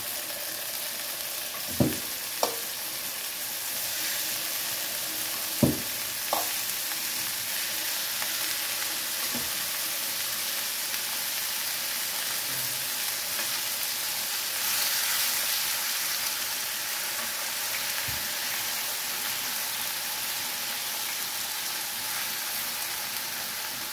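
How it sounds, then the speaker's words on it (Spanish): Pork chops sear in a pan with a little olive oil, giving a continuous crackling sizzle, with a few sharp knocks of the pan or utensil near the start. "voy a sellar mis chuletas"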